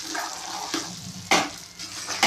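Tempering is stirred into ven pongal in a pan with a spoon, making close scraping and sizzling strokes, with a few sharper bursts of sound as the mix is turned over.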